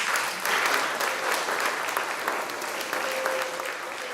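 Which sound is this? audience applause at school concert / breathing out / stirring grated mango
audience applause at school concert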